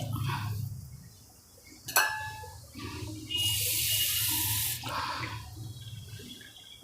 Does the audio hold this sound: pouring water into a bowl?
yes